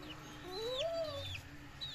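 Chicks of a domestic chicken in a village yard cheep with thin high peeps and one longer rising call, over faint low background noise.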